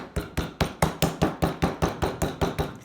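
A slab of clay is slammed repeatedly onto a work surface, about a dozen sharp, evenly spaced thuds in quick succession, each with a short decay, close and clear with no talking.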